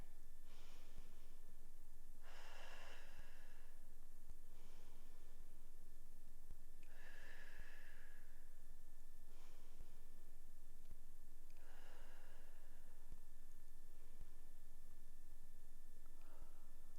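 Slow, steady breaths are drawn in and let out during a held yoga pose, rising as soft, faint airy swells every few seconds over a constant background hiss.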